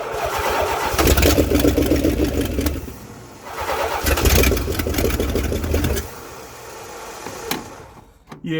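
A Mopar V8 engine cranks and catches, firing up in loud rough bursts with revving, dropping back between attempts, then settling toward a lumpy idle close by.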